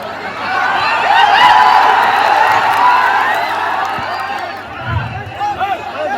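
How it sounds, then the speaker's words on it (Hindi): A large crowd at a political rally in Dhaka welcoming a politician, with a loud swell of cheering and crowd noise that builds and then eases, and a voice heard over it. "तालियों से स्वागत कीजिए इनका, तालियों से स्वागत कीजिए"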